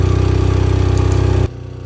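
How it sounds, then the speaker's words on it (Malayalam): A ferry boat's engine chugs in a steady rapid rhythm, loud and close, then drops suddenly to a softer, lower idle near the end. "ഇതാണ് വീണ്ടും ഒരു കടത്ത് ബോട്ട് കൂടി"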